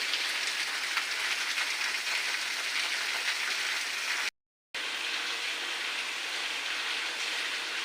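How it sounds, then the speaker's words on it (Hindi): Heavy rain pouring down in a mountain village in Uttarakhand, a dense, steady roaring hiss of falling water with a brief silent break midway, no voices. "देखिए कितनी तेज़ बारिश आ रही है यहाँ।"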